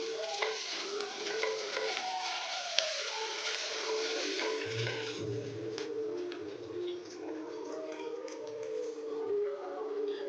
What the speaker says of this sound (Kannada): ಇದು ಹಸಿ ವಾಸನೆ ಹೋಗೋವರೆಗೂ ಚೆನ್ನಾಗಿ ಫ್ರೈ ಮಾಡ್ಕೋಬೇಕು